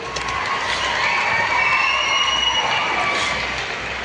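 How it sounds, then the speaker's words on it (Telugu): Crowd applauding and cheering in an assembly hall, a loud continuous roar of clapping and shouts with no pauses. "చప్పట్లు."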